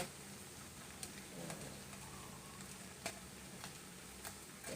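Isan beef curry (kaeng om) being stirred in a pot, heard as a faint, continuous simmering sizzle with occasional soft knocks of a utensil against the pot.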